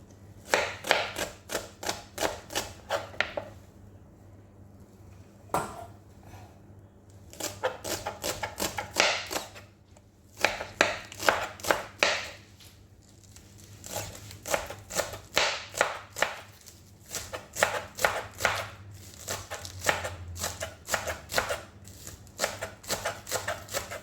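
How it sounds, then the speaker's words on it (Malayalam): A knife chops spring onion stalks on a cutting board in rapid, close, steady bursts of crisp taps, with short pauses between runs. "ഇതൊന്ന് ചെറിയ പീസായിട്ട് നമുക്ക് ഇതൊന്ന് കട്ട് ചെയ്തെടുക്കാം"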